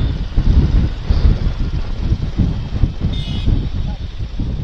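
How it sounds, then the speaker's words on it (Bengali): Cold wind buffets the microphone during a motorbike ride, a continuous low roaring rumble that gusts in uneven waves throughout. "ঠান্ডা ঠান্ডা হাওয়া দিচ্ছে"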